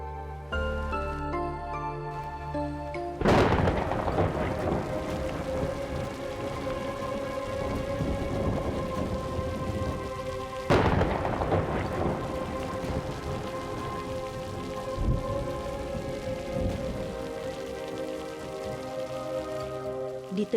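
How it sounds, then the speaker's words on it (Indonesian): Heavy rain falls at night, a dense steady roar of drops broken by two loud thunder cracks, each rolling on into a long rumble; no talking. "Di tengah hujan deras malam itu"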